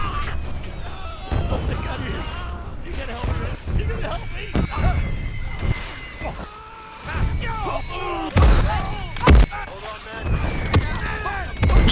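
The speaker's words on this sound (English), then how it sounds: "Just walked straight through an explosion." Artillery blasts and gunfire echo across a World War I battlefield in the Gates of Hell video game, with heavy booms and thuds scattered through the scene, loudest near the end, while someone talks throughout.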